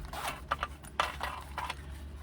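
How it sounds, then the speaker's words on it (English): A zipper being pulled closed on a sewn fabric pocket pouch, a series of short quick rasping zips in uneven bursts, close and quiet with no talk. "Close our zipper pocket up to make it a bit easier to maneuver"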